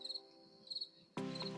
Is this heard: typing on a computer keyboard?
no